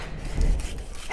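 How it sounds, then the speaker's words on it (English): A dog barking and panting during a thunderstorm, a short, close, loud outburst lasting about a second. "My dog's going crazy, huge crack of thunder."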